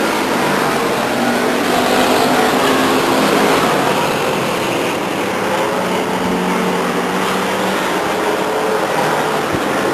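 Race cars roar around Stockton 99 Speedway, a short oval track, in a 1999 event. Engine noise is dense and continuous, a loud, steady blur of several cars throughout.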